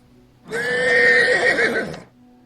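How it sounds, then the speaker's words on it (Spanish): A single loud, close horse neigh rises and trembles for about a second and a half, standing alone against quiet surroundings. "lanzó un potente relincho que nos erizó la piel"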